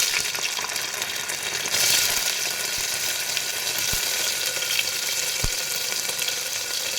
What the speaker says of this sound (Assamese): ঘি গৰম হোৱাৰ পিছত মই ইয়াতে পনীৰ অকণমান ফ্ৰাই কৰি উঠাই ৰাখিম।